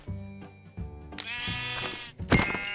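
Sheep bleating in a video game, a few wavering bleats ringing out loud and close over layered game sounds, with no talking.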